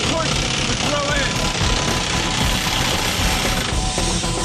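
A pneumatic rock drill hammers continuously and loudly through rock at about 3,000 blows a minute, a dense rapid pounding that never lets up.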